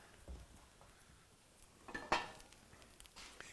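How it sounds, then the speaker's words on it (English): A chicken dish is slid into an oven with a single sharp metallic clank, preceded by a soft bump and faint kitchen rustling, quiet and close. "I'm going to go ahead and pop it in the oven for a little bit"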